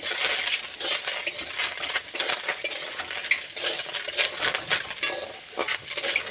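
A spoon stirs chopped bottle gourd with salt and turmeric in a pan, giving close, busy scraping and clinking that sizzle faintly, alone without talk.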